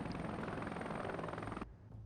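A helicopter in the combat flight game Heliborne thrums with steady rotor chop and engine whine, loud and close, then the upper noise abruptly drops away leaving a low rumble.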